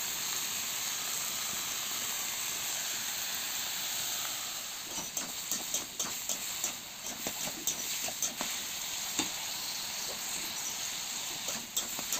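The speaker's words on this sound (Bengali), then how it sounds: "আর আলু দিয়া খুবসে ভাজা লইলাম।" Potatoes hiss and sizzle steadily in a pan, with scattered utensil clicks and scraping joining partway through.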